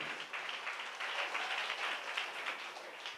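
A church congregation claps together in worship, a fairly faint, continuous patter of many hands held steady for a few seconds without speech on top.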